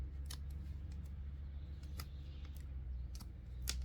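Hand knob-cutter pruning shears snipping a tree branch, a few sharp crisp clicks spaced out over a low steady hum, close and fairly quiet, no talking.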